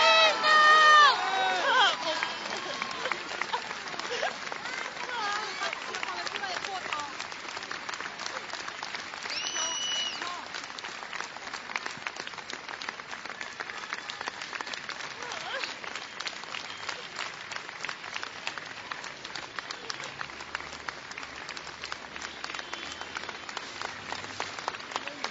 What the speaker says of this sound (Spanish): Y el aplauso que se hace más fuerte ahora.